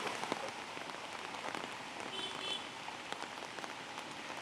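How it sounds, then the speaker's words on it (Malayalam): Heavy rain pours steadily over Delhi, a dense continuous hiss of drops hitting surfaces, loud and close throughout with no voices. "ഇന്നലെ രാത്രി തുടർന്ന മഴ ഇപ്പോഴും അതിശക്തമായി തിമിർത്ത് പെയ്യുകയാണ്."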